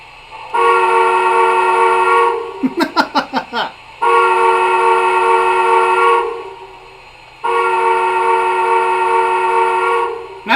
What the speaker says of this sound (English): here's that goofy whistle I was talking about.